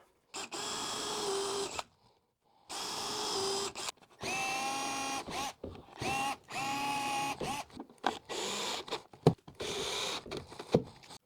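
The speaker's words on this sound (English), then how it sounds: "now we're going to put the screws through the bottom." A power drill drives screws up through the bottom of a large wooden Christmas tree base, whirring in repeated short bursts that rise in pitch as each screw seats, close with brief gaps between.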